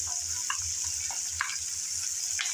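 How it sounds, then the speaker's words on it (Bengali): Dried fish frying with spices in a pan with very little oil, giving a steady close sizzle with faint scraping stir sounds as the mixture is turned, with no talking. "নেড়ে চেড়ে ভালোভাবে সব উপকরণ ভেজে নিতে"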